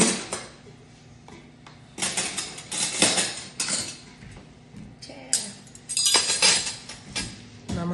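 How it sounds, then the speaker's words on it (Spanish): Metal cutlery is picked up from a kitchen drawer, with bright clinks and rattles arriving in irregular bursts close by, separated by quieter pauses. "Vamos a tomar cubiertos."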